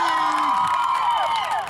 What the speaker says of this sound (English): Who's cheering for Khalik?